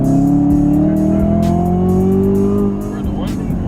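A 2018 Chevrolet Camaro ZL1 engine roars steadily at high revs, its pitch slowly climbing, loud and close, with a passenger's voice briefly audible over it.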